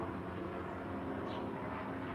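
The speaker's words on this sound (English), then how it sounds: "But there's been a helicopter that has been encircling this area." A news helicopter circles overhead, heard as a steady, fairly distant rotor-and-engine drone that holds throughout without fading away.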